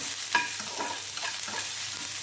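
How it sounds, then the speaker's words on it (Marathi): Chillies and curry leaves being stirred in a hot frying pan for a spicy chilli-fritter filling, a close, continuous sizzle with scraping stir strokes and no speech. "याला छान आपण असं फिरवून घेऊया"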